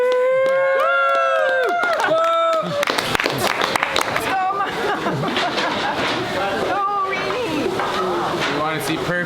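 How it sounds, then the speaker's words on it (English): Crowd cheering and clapping at a military unit's 100th anniversary event, loud mixed whoops and applause with chatter, following a brief stretch of a tonal, siren-like sound at the start. "Get some cheering here, come on."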